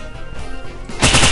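AK rifle fire in the pixel-art survival crafting game Pixel Survival, a loud dense burst of rapid shots that swells sharply near the end of a short stretch.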